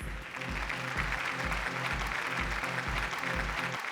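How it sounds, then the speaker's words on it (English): An audience at an automotive awards evening claps steadily under a thumping rhythmic beat of music, the clapping sustained and fairly loud throughout. "Give him a round of applause"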